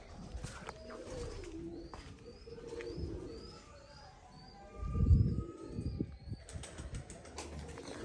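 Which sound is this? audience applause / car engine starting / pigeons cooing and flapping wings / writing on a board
pigeons cooing and flapping wings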